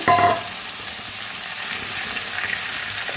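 Chopped bottle gourd tipped into a hot oiled pan sets off a loud initial sizzle, then settles into a steady, moderate frying crackle with a faint stir.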